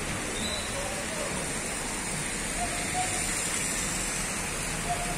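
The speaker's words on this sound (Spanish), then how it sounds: "Se intensifica otra vez la lluvia en esta tarde de este miércoles 29 de diciembre de 2021." Heavy rain pours steadily on a Wednesday afternoon in Cali, Colombia, a dense even hiss of falling water that holds constant throughout with no voices.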